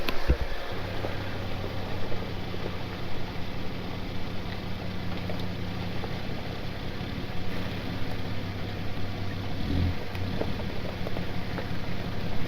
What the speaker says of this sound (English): So I'm gonna turn my truck around and back it in here.